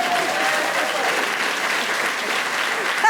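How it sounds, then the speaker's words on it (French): A studio audience applauds a guest in steady, dense clapping that holds evenly for the whole stretch, with a few voices mixed underneath. "Au bout de 25 minutes, on peut l'applaudir."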